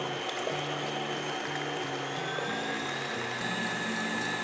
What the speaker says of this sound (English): with the mixer still running, we're going to add the sugar in and then continue beating it until stiff peaks form